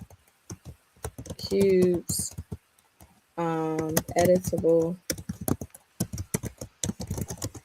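Quick keystrokes on a computer keyboard click in irregular bursts while someone talks over them, setting up text for baby shower photo cube designs.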